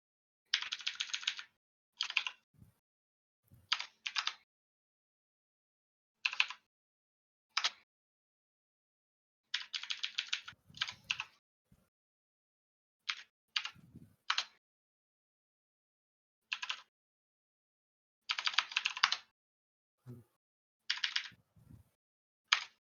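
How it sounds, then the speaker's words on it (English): Fingers type on a computer keyboard in short, quiet bursts of rapid key clicks separated by pauses, with an occasional soft thump, in an otherwise silent room. "Just typing some initiatives out."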